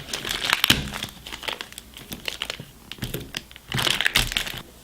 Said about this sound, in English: It comes in a clear pack, so we'll open that out.